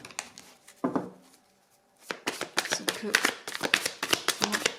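Tarot cards being drawn and handled, with a burst of rapid shuffling and flicking card sounds, close and crisp, alternating with someone speaking between them.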